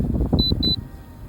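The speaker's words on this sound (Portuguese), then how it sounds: "Esses bip aí é da câmera" Two short electronic beeps from an L500 Pro drone camera, crisp and close, heard over wind noise and low rumbling handling sounds outdoors.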